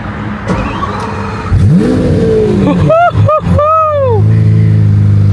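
A Lamborghini Aventador LP-700 in sport mode fires up with a sharp starter whir and bark, then settles into a loud, close idle, with a couple of quick blips and a falling rev between.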